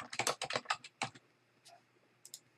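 Quick bursts of keystrokes on a computer keyboard while entering text in CAD software, close and crisp, with a clustered run followed by a few isolated taps against a quiet background.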